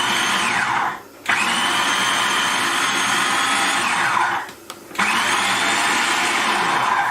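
Kenwood food processor pulsing kidney beans and black beans, three loud whirring bursts separated by brief pauses as the motor stops and restarts.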